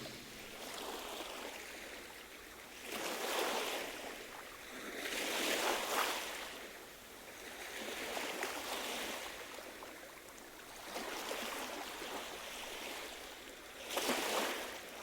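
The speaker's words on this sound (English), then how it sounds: "Waves?" Rolling ocean surf from the game Star Ocean: The Second Story, with slow swells rising and falling every few seconds over a steady washing hiss, no voices.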